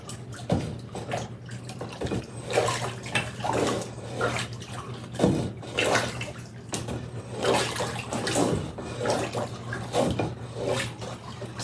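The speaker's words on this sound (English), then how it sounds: "So as always, you need to stir." Ceramic glaze being stirred in a bucket, a steady wet swishing and scraping with repeated strokes, fairly close and continuous, with no talking.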